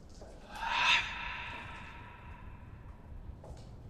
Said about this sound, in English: I love the heavy breathing.